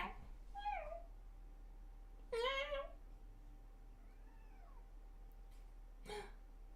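A cat meows a few times, short rising and falling calls, fairly close in a quiet room with a low steady hum.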